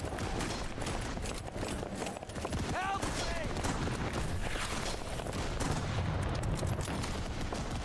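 Dense World War I trench battle in a video game: steady distant rifle and machine-gun fire crackles without pause under a constant rumbling din.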